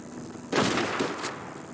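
Gunshots at a queen bee hive in the ARK video game, a single loud, sharp shot that rings out and decays, followed by a fainter second report.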